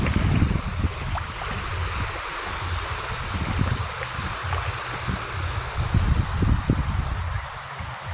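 Ocean surf at a beach where people are swimming, a steady broadband wash of waves with wind noise and low rumbling churn, fairly loud and continuous with gentle surges throughout.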